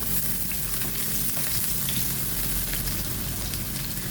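Garlic frying in hot oil in a pan gives a dense, loud, unbroken sizzle and crackle, close and even from start to finish with no talking.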